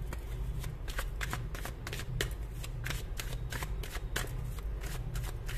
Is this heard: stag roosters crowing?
no